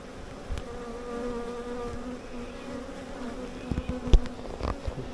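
A swarm of honey bees hums in a continuous close buzz, with individual bees whining past and a few soft knocks and bumps nearby.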